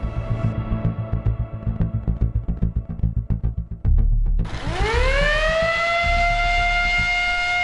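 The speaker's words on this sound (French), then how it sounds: "La sirène de l'école retentit." The siren at the cadet school of the Nation in Blida, Algeria, sounds at 6 a.m.: a loud throbbing motor rumble first, then a rising, sustained wail that holds steady, with no talk.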